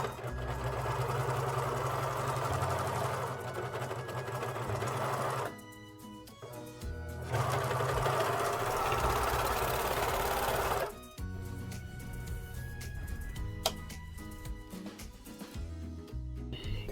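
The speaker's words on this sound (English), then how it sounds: "Then you're going to serge these, and again I'm going to cut a little bit off." A serger runs in long, fast bursts while it finishes the seams of a bear hoodie, whirring loudly for several seconds, pausing briefly, then starting up again. The machine works on its own with no voices.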